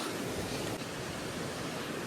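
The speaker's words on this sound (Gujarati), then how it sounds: "વરસાદ ચાલુ છે ને એટલા માટે." Dense, steady rush of water and rain near Kedarnath, a broad constant roar close by with no breaks and no voices.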